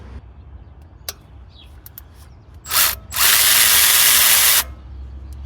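A 10mm socket on an extension turning out an engine bolt on a Toyota 2AZ-FE engine, with scattered clicks and taps followed by a short whir and a longer steady, loud power-tool spin, then quiet.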